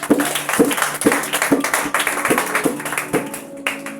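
A church congregation clapping in a steady, even beat, the claps close and loud and repeating roughly twice a second over a faint background.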